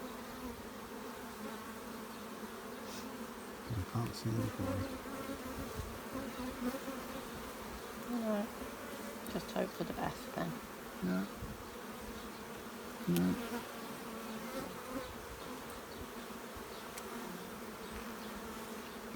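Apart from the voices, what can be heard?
honeybees buzzing at a hive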